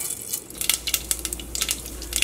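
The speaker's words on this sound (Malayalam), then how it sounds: "അപ്പോൾ കടുക് പൊട്ടിയിട്ടുണ്ട്." Rapid irregular pops and crackles of seeds spluttering in hot oil, close by, over a low steady hum.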